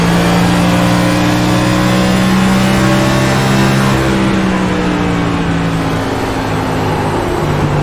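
Onboard ride in a short-track stock car during a Thursday Night Thunder race, with a loud, steady engine drone whose pitch holds and shifts slightly under throttle, close and continuous with no talk.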